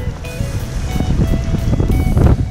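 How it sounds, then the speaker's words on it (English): Churning water and surf wash fill the background, with rushing broadband noise and some low rumble, fairly steady throughout: waves crashing against a beach during a storm. "I reckon the waves are crashing in against the beach."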